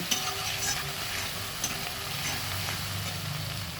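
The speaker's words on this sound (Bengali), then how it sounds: "সমস্ত উপকরণ ভালোভাবে আমি মিশিয়ে নেব।" Spices with coriander powder being stirred in a frying pan for a prawn curry, giving a steady, close sizzle with soft scraping running throughout, no talking.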